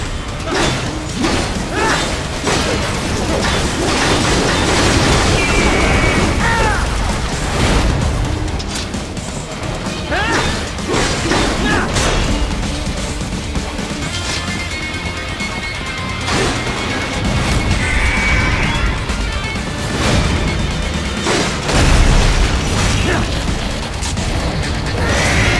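Heavy energy-weapon blasts and metallic crashes from plasma cannon fire in the action game Metal Gear Rising: Revengeance, loud and continuous with booms, whooshes and mechanical clanks layered over a game soundtrack.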